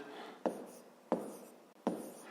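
A pen writes out a fifth-grade math solution on paper. Three crisp, close strokes are evenly spaced, each trailing into soft scratching, in a quiet room.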